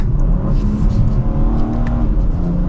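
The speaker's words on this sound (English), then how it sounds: "we can also make the exhaust less quiet" Exhaust of a 2025 BMW M4 Competition xDrive, a steady, close, low engine drone with a faint rising note, heard from inside the moving car with no talk.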